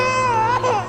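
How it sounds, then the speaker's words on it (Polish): An infant cries in a sustained, wavering wail during the baby-carriage scene in Brian De Palma's film The Untouchables. The cry is close and clear and breaks briefly near the end before trailing off. "Płacz dziecka"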